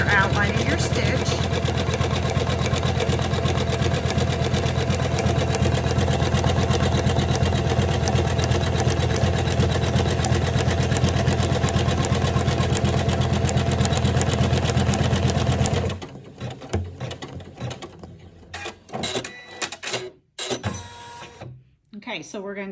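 A Janome 500e embroidery machine stitches the brown nose section of an in-the-hoop gnome Christmas ornament, giving a steady, loud, continuous mechanical whir for about sixteen seconds before stopping, followed by a few scattered quieter handling sounds.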